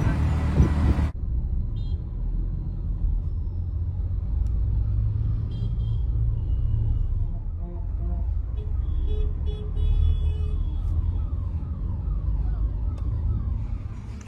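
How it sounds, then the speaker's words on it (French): Cars speeding past on a busy road near a hotel where tuk-tuks also run, making a steady close traffic roar with a deep engine rumble and a few brief higher horn-like tones throughout. "Tu as vu les voitures comment ils passent vite là?"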